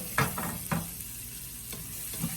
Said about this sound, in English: we're going to saute those guys up with our remaining bacon drippings